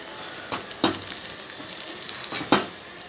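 Wheat masala paniyaram fry in a pan with a continuous close sizzle, broken by a few sharp clicks and scrapes as the pieces are turned.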